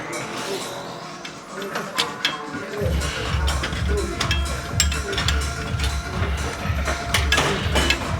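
Stuck pin on a gym weight machine being yanked and rattled, repeated metallic clanks and scraping knocks in a steady rough rhythm, close and fairly loud, with someone speaking at times.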